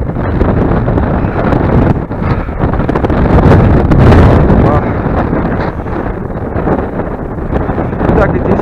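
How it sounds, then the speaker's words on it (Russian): Strong wind roars and buffets the microphone continuously, loud and close, on a high hilltop at Tsarev Kurgan near Samara, with a voice briefly heard under the gusts. "Ветер!"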